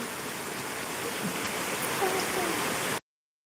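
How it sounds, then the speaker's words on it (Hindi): Heavy rain pours down steadily, a dense broadband hiss like rushing water filling the scene at constant loudness before cutting off abruptly. "बारिश का आवाज सुन रहे हैं, कितना तेज बारिश हो रही है।"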